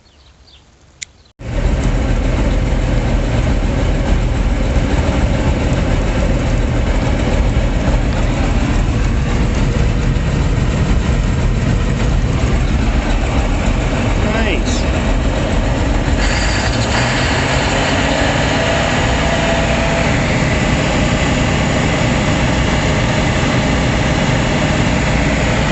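After a brief quiet start, a tractor engine fitted with a King Kutter implement starts up and keeps running at a loud, steady rumbling idle for the rest of the clip, with no voices.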